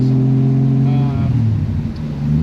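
Nissan 240SX with a freshly built RB25DET swap and smaller turbo revving in the rain, a loud near engine note climbing in pitch and then settling into a lower rumble.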